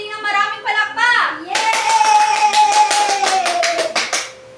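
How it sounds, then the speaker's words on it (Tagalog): Grade 3 children in a classroom clap together after a teacher's prompt, a burst of quick, dense hand claps lasting a few seconds, following a brief sung or voiced cheer, then fading out. "Bigyan natin ang ating sarili ng maraming palakpak."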